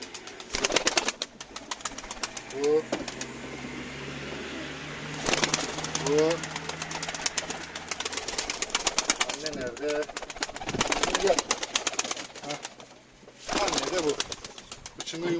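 Pet pigeons, parents with chicks, coo and rustle at close range in bursts, with wing flutters, under almost continuous talking.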